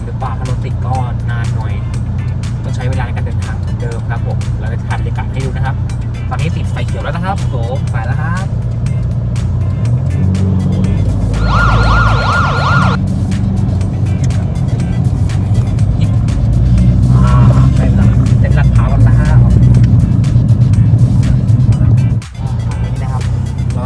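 Road traffic in Bangkok's Lat Phrao area makes a steady, loud engine rumble and tire roar that runs the whole time, with a brief rise partway through, under someone talking.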